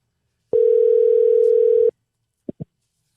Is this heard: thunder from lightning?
no